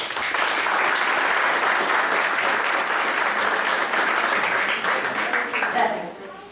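An audience at a law faculty lecture gives a welcoming round of applause for the teacher. The clapping is loud and dense, holds steady, then tapers off at the end.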